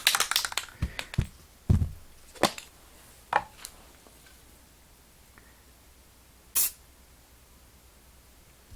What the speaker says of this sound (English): I'll show you how far away I am when I'm spraying this